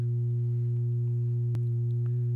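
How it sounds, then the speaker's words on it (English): A Blue Lantern Lunar Modulation Lab VCO hums out a steady, pure sine tone at a constant low pitch, loud and unbroken, with a faint click partway through. "So here's a sine wave."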